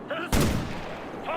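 A gunfire burst in the video game Ghost Recon: one sharp, loud shot with a brief trailing rattle, with voices talking just before and after it.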